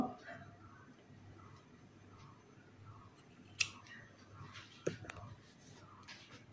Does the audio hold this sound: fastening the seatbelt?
no